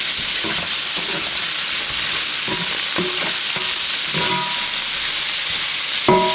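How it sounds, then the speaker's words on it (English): Onions sauté in butter in a pan for smothered steaks, making a loud, steady sizzle close by with scattered stirring clicks and scrapes and a sharper knock at the end, with no voices. "Add your onions in. Saute those down and let them sweat for like 2 to 3 minutes."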